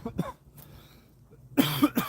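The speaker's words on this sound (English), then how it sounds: "Just trying to get over this cough." A person with a cold coughs a few times, a short isolated cough near the start and then a louder burst of rough, chesty coughs toward the end, close and with no talking.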